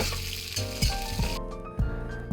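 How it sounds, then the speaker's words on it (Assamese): Onions frying in hot oil for a home-style Assamese local chicken curry, a steady close sizzle with crackling and a few soft stirring scrapes, no talk. "তেল গৰম হৈ যোৱাৰ লগে লগে পিঁয়াজখিনিও দি দিলে"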